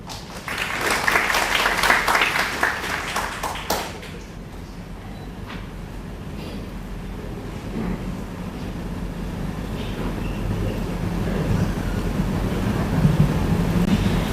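Audience applause welcoming Dr. Surin Pitsuwan at an event with Thai monks present, a dense wash of clapping that is loud at first, then fades to a softer, sustained patter and room murmur.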